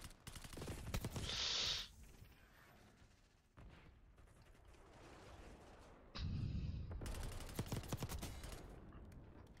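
Rapid gunfire from a fast-firing, low-recoil weapon in a first-person shooter video game, dense bursts of shots with brief pauses and mechanical clicks, fairly loud and close.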